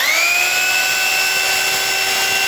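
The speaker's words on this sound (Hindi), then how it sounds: "तो जब मैं इसको ड्रिल करूँगा तो ये बिल्कुल स्मूथ चलेगी।" A Bosch rotary hammer drill runs in plain rotary drilling mode. A loud, close, steady motor whine climbs briefly as it spins up, then holds an even pitch, with no voices.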